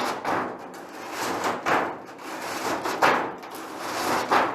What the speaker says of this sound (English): I just get a Scotch-Brite or sandpaper, whatever you're using. I can just sand down.